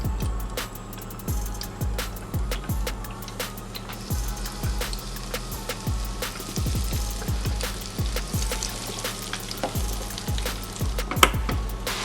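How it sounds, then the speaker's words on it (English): Chicken pieces deep fry in a home fryer with the lid closed, making a steady close bubbling sizzle peppered with irregular pops and crackles throughout. "I'm putting the last 2 pieces into the fryer"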